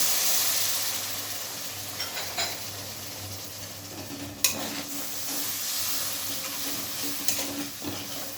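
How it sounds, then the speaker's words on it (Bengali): Warm water goes into a pan of sizzling tomato paste and spice masala for a cabbage curry, giving a soft, steady frying hiss with a few faint stirring scrapes and utensil clicks close by. "এরপর আমি হালকা জল গরম করে রেখেছিলাম, সেই জলটা আমি দিয়ে দিলাম।"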